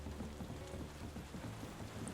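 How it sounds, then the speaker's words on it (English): Steady night rain falls in the tavern-management game Tavern Keeper, an even, continuous patter that holds at the same moderate level throughout with no voices. "Seems we're in for a rainy night."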